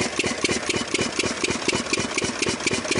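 LPG-fuelled engine driving an irrigation pump, a steady, loud, close chugging idle with a fast even rhythm and a rattling mechanical edge, running alone without talk.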